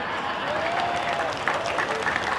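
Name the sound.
audience applause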